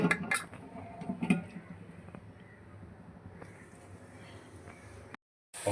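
A metal lid goes onto a pot of chicken curry with a couple of brief clanking clinks at the start, followed by a quiet, low background hum.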